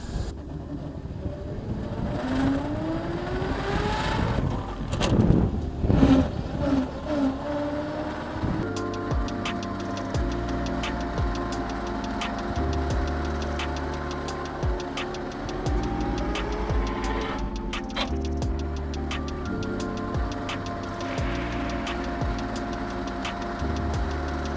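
Engine of the first ever Volvo car pulling away in first gear, a low rhythmic chugging drone with ticking mechanical clatter, steady and close throughout with no talking.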